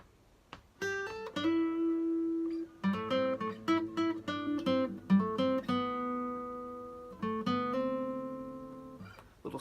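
A guitar plays the intro riff of a country song, a series of plucked, ringing note phrases with repeated attacks and sustained tails, played alone at a moderate level with no talking.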